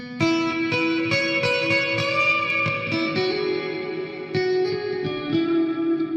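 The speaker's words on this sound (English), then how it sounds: "that reverb is some kind of crazy delay" Electric jam-session music soaked in heavy reverb and a wild delay effect, sustained tones and struck notes smearing into long echoing tails, loud and continuous with no voices.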